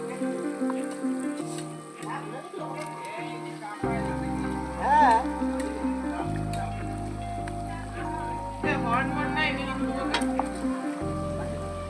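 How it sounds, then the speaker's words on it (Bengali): Washed mutton going into sizzling spice masala, a moderate sizzle and stirring under steady background music, with a voice speaking over it. "মশলাটা কষে গেছে কিছুটা পরিমাণ এবার ধুয়ে রাখা মাংসটা দিয়ে দেবো"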